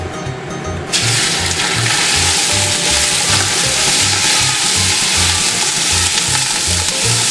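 One pound of lean ground beef drops into hot olive oil and bursts into a loud, steady sizzle that carries on without a break, close up.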